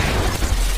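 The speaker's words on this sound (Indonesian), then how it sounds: "tiba-tiba tembakan sniper anti-tank punya musuh mengenai salah satu mobil hingga terbalik" A film-style anti-tank sniper round striking a car and flipping it, a short, loud, booming explosive impact with heavy low rumble, no talk.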